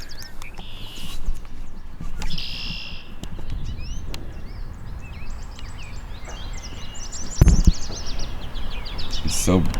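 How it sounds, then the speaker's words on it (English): Birds chirp and call intermittently outdoors over a steady background hiss, with a brief louder knock or thump partway through. "there's absolutely nothing in the sky right now, other than birds, which is nice to hear again."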